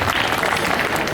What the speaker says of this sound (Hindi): एक बार फिर से आप बजा दें तालियां राकेश जी सर के लिए।